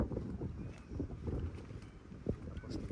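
Moderate wind at a beach resort at sunset rushes and buffets the microphone outdoors, with faint background sounds underneath.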